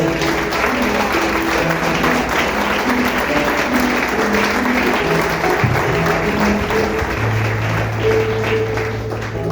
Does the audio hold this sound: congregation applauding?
yes